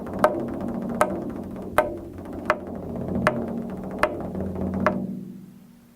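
Solo percussion blending struck drum hits with taps on a wooden frame: seven sharp, evenly spaced strikes over a sustained low drum resonance, close and moderately loud, ending with a ringing decay.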